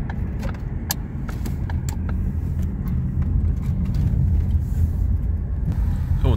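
A Ford Focus driving through a tunnel gives a steady, loud low rumble of engine and road noise throughout, with a few faint rattling clicks scattered over it.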